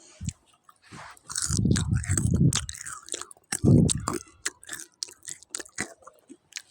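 Someone close up chews crunchy french fries, with loud crisp bites and wet mashing in bursts and clicky crunches trailing off toward the end.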